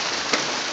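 Hail coming down hard during a February hailstorm, a dense, steady hiss of ice pellets striking surfaces with one slightly louder impact partway through, filling the whole short stretch.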